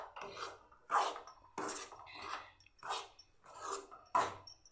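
Semolina (rava) roasting in a pan over medium heat on a home stove, with intermittent scraping and stirring strokes of a utensil against the pan, close and fairly quiet, in irregular bursts about every half second.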